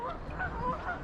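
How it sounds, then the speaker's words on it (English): Swans calling on a narrow canal, a few honking, nasal calls overlapping against steady outdoor background noise at moderate distance. "Morning, swans."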